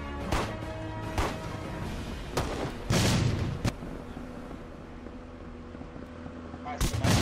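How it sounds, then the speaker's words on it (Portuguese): Video game gunfire: heavy, booming shots fired in irregular bursts over a constant rumbling background, loud and close. "muito tiro, muito tiro"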